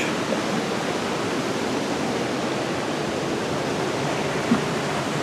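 Steady, full rush of river water pouring over a waterfall, heard up close at the river's edge as a dense, unbroken roar with no voices.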